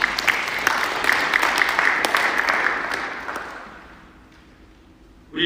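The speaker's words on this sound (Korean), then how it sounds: "우리가 박수 한번 올려드릴까요?" A church congregation at a Sunday service in Berlin claps together for several seconds, a full room of hands that gradually thins and fades to near silence, followed by a sudden loud sound at the very end.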